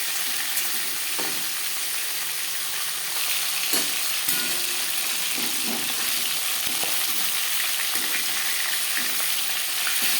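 Rohu fish frying in a pan, a steady hiss of sizzling oil with occasional soft stirs and taps of a utensil, close and continuous with no talk.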